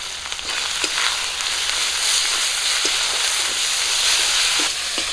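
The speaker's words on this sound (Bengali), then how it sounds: "মশলাগুলো একটুখানি ভেজে নিয়েছি" Spices frying in a pan with onion and green chilli, including ginger-garlic and cumin paste, turmeric, chilli powder and salt. A dense, continuous hiss and crackle with occasional faint clicks runs steadily throughout, close and without voices.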